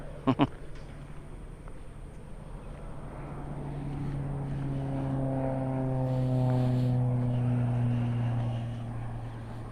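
A propeller aeroplane flies overhead during a country walk near Goondi, a droning engine that swells louder toward the middle and stays strong to the end, after a couple of sharp knocks at the start.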